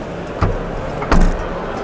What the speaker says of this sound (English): let me close this trunk